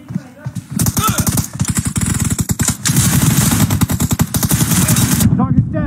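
Rapid automatic gunfire rattles almost nonstop in a team deathmatch shooter, loud and close, breaking only briefly between long bursts while players talk over it.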